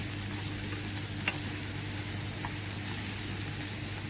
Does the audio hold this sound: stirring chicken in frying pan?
yes